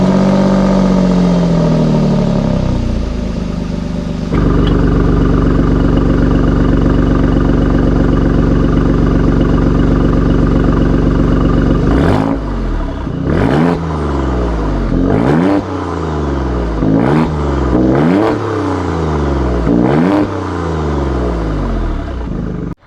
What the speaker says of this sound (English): I wanted to take a minute just so that you can hear what that beautiful exhaust sounds like.